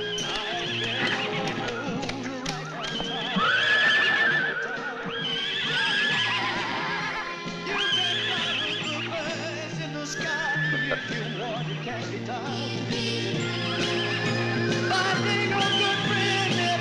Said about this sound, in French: Sont à qui ces chevaux?